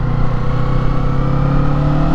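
A Kawasaki Eliminator 400cc cruiser motorcycle accelerates with a steady, loud engine drone and a rising harmonic pitch, close up and continuous with wind rush, no talk.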